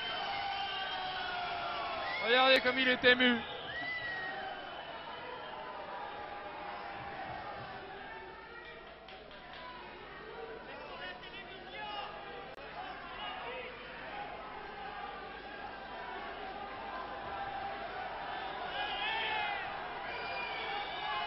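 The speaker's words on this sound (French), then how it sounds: "Voilà, écoutez les acclamations." Crowd cheering and shouting after a wrestling bout as the winners are announced, a loud burst early on settling into continuous distant crowd noise and chatter, with a commentator talking over it throughout.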